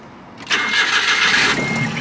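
A Smart car engine cranks and catches after a jump start: brief quiet, then a sudden loud start settling into a steady idle hum that eases off toward the end, heard close up.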